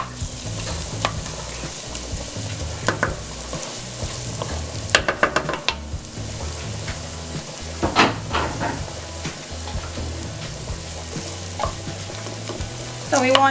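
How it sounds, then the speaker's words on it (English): Scallion and onion sautéing in a little oil in a pot, a continuous sizzle with occasional sharp scrapes and knocks of a spoon, close and steady, no speech. "we're going to saute some scallion and onion in this pot"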